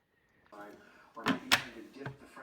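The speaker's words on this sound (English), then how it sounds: "I want you to hear it snap close" A sharp plastic snap as the bin lid of a Hoover UH73510PC bagless upright vacuum clicks shut, followed by a couple of lighter clicks, with someone talking over it.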